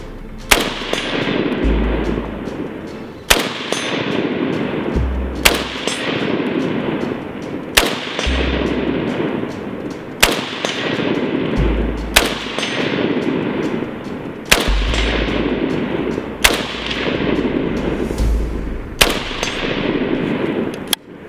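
A RAS47 rifle fires single shots at outdoor target practice, about nine sharp loud reports spaced roughly two to three seconds apart, each followed by a brief echo.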